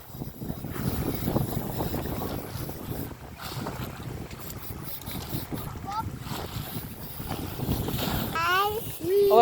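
Wind buffets the microphone steadily during a boat ride on open water, a broad rushing roar that swells and eases throughout, with people talking faintly underneath.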